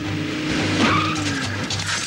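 Car skidding on a motorway in a 1998 RTL Klub TV promo: a loud tyre squeal sweeping through a short engine roar, near and dramatic, with no talk.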